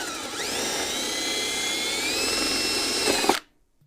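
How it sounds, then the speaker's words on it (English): A power drill whines steadily at high speed while boring holes in wood. The sharp, continuous sound climbs slightly in pitch, then stops abruptly after about three seconds and leaves silence. "Now we're going to drill the other holes and then we'll be ready to go."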